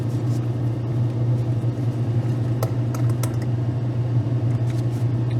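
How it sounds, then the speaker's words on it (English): Spray booth fan running steadily during airbrushing of HO scale model cabooses, a constant close droning hum with a low tonal whine, broken by a few faint clicks and taps. "I'm going to turn the fan on and things are going to start getting loud"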